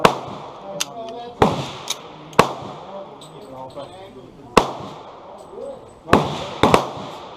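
A Radom P-64 pistol in 9x18mm Makarov fires at a range, giving sharp, loud single shots spaced irregularly, about eight in all, while people talk between them.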